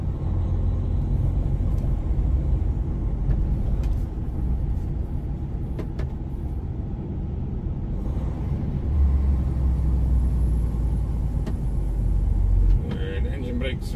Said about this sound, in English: The engine brakes really works good.